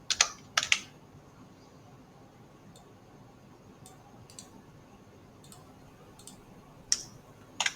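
Keyboard keys tapped while typing Java code on a computer, a few quick clustered clicks near the start and scattered single taps later, close and fairly quiet over a soft room hiss with no talking.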